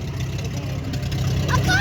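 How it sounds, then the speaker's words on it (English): A John Deere 6800 tractor with a six-cylinder Perkins engine runs steadily at a steam rally, a low engine chug under someone talking nearby. "here we go with another 6800 John Deere"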